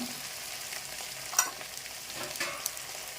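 Onion and potato pieces drop into a hot pan while cooking sambar rice, giving a steady sizzle and frying crackle with a few stirring clinks, close and moderately loud, with no talking.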